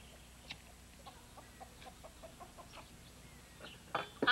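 Laying hens cluck softly and steadily in the background, with a louder flurry of clucks at the end.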